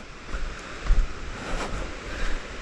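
Rushing water from the Badalgiri waterfall roars steadily in the distance along a muddy hillside trail, a broad continuous wash mixed with gusty wind buffeting the microphone, and no voices.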